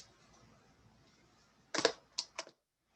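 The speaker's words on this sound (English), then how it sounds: "I cut it with the Recollection scissors" Recollections scissors snip beading wire at a crafting table, a few sharp, close clicks in quick succession after a quiet stretch.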